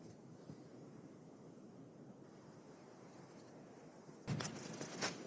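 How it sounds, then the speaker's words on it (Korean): Strong wind rushes steadily over a rocky, foggy mountainside in cold weather, a continuous broadband roar buffeting the microphone, ending in a louder gust burst near the close. "바람 진짜 많이 부네요"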